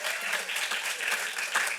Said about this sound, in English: the way that we celebrate is through claps